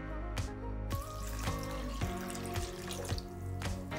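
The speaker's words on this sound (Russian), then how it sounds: "Его нужно хорошо промыть под проточной водой." Rice is rinsed under running tap water in a home kitchen: a steady, close stream of water splashing into a sink, with faint dripping and background music underneath.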